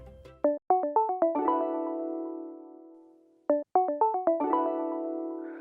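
A digital mobile phone ringtone plays a quick rising run of electronic tones that settles into a sustained musical chord, then repeats the same phrase after a short gap, ending with a small beep, clear and alone.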